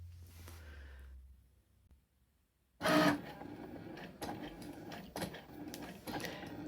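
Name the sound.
Cricut machine drawing a design with a pen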